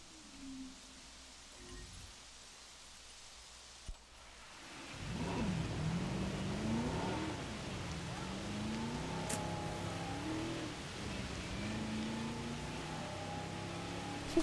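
A car driven in the Jurassic World video game, its engine rising and revving from about five seconds on as a steady, loud drone with shifting pitch, over a rain-like hiss.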